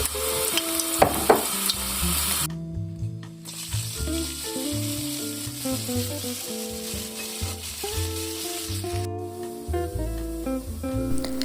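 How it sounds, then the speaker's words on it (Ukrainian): Peeled langoustine heads with tentacles frying in a pan with oil, garlic and pepper, a loud continuous close sizzle with occasional stirring clatters, while music plays underneath. "І додаю голови, очищені разом з щупальцями."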